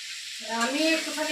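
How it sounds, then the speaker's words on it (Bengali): Sliced onions and potatoes frying in oil, a loud close hiss that swells suddenly partway through and then holds steady with bubbling crackle, no talking. "তাই একটু পেঁয়াজ আলু একটু ভাজছি"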